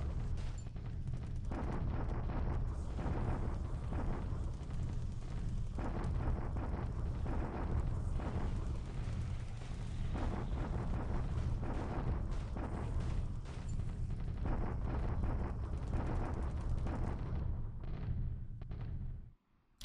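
Continuous rumbling bombardment from a Pacific War strategy game, dense overlapping booms and explosions forming a loud, unbroken roar that cuts off at the end.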